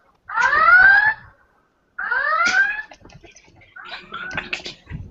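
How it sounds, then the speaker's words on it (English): A Star Trek red alert effect played from a soundboard: three rising electronic whooping tones, each about a second long, separated by short silences and fairly loud. "It was a red alert, dude"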